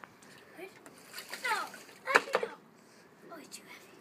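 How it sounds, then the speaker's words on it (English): Water splashes outdoors in several short bursts, sprayed onto plants, with children's voices talking and exclaiming around the splashes. "We're going to splash this."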